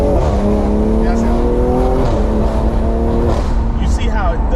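A BMW X3 M / M340i turbo engine accelerates hard from inside the cabin, a loud rising drone that climbs through gear changes with a faint turbo whistle, while people talk over it.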